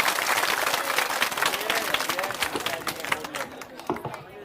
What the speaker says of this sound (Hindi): अब एक बार प्रशांत किशोर जी के लिए जोरदार ताली बजाइए।